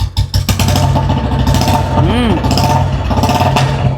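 2009 Royal Enfield Bullet motorcycle engine thumping with rapid irregular pops and bangs, close and loud, while someone talks over it.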